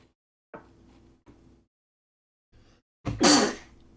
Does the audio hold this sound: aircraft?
no